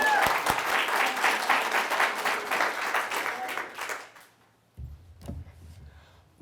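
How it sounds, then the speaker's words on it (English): Crowd applause at a town hall meeting, loud and sustained before tapering off, after which a few faint knocks and murmurs follow in the quiet room. "give yourself a round of applause again"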